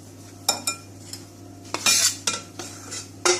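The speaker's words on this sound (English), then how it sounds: "So now we are going to add all our dry ingredients in the milk and stir it." Flour, cocoa powder, baking powder and baking soda stirred into milk in a bowl for a microwave eggless chocolate cake, with a few sharp utensil clinks and scrapes against the bowl, close and clear.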